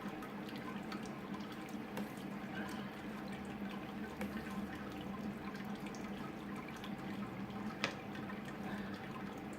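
Wort trickling and dripping steadily during the sparge on a NEIPA brew day, a faint continuous watery flow with light splashes and one small knock, no talking.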